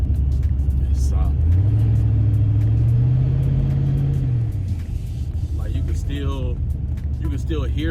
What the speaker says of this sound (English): You can still hear the car. It didn't just mute it